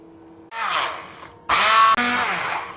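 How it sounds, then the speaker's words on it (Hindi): An electric blender whirs through a sauce of white vinegar and cooking oil in short loud bursts, starting after a brief quiet moment, cutting off and restarting with a strained, rising motor whine. "और अब हम स्टार्ट करते हैं इसकी ब्लेंडिंग।"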